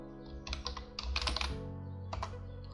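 Keys clatter on a computer keyboard as a password is typed, coming in close, quiet bursts of taps with short pauses between.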